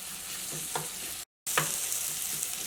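Tomatoes and grated potato fry in a pan while being mashed, making a steady close sizzle with a few soft scraping pushes, and a brief dead gap cuts the sound midway.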